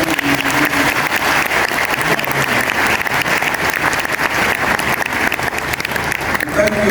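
Sustained applause from an audience at a university ceremony honouring the President, dense steady clapping that fills the room evenly from start to finish, with no voices rising above it.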